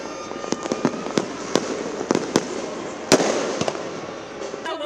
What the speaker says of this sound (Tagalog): sa hudyat, nagliwanag ang kalangitan sa inihandang fireworks display